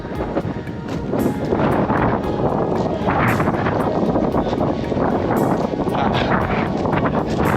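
Steady, roaring dry, cold wind buffets the microphone throughout, a loud continuous rush with gusty swells and no voices.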